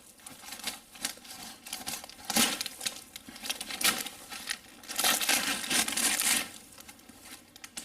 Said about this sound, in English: Heat shrink plastic on it.